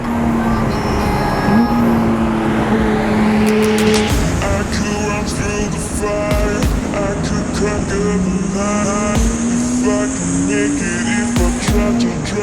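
A Porsche GT3 RS driving winding back roads, engine loud and steady throughout with pitch rising and falling through gear changes, close and continuous, with occasional talk over it.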